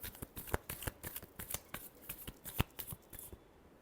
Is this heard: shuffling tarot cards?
yes